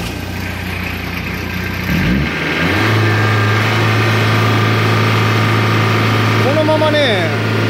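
An aging combine harvester's diesel engine, just fitted with a new fuel filter, cranks briefly, catches and settles into a loud, steady rumbling idle, with a short whining rev near the end.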